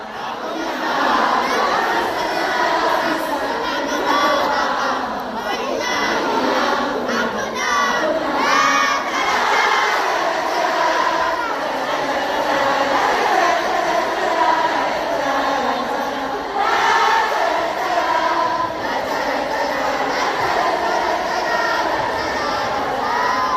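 A concert crowd in Sydney sings the chorus of a song together, a dense roar of many voices with shouts and cheers rising and falling across the whole stretch.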